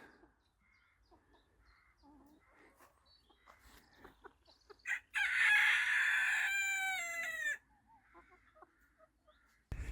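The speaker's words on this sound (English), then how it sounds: "So the chickens have literally only been out for 2 or 3 hours now" Soft clucking from chickens nearby, followed by a loud rooster crow lasting a few seconds, then quieter clucks again.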